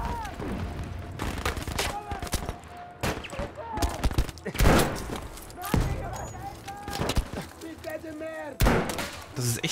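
A grenade bursts with heavy booms in a Battlefield V battle, loud blasts landing amid dense gunfire and rattling bursts, while someone talks over the fighting.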